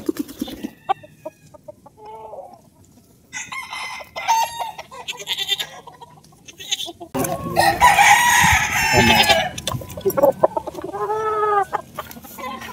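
Sweater gamefarm roosters, imported lines, crow and cluck close by in a yard. Scattered clucks give way to loud crowing bursts in the second half.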